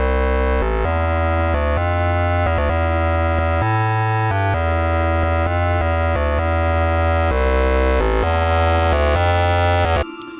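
A loud, bright layered synthesizer lead, made in Sytrus 16, plays a stepping melody over sustained layered tones and a deep bass, rich in harmonics, cutting off abruptly at the end.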